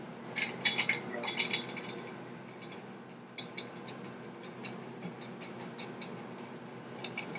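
Ice cubes clinking and rattling in a glass being chilled for a cocktail, close and bright, with a busy burst early and scattered lighter clinks after.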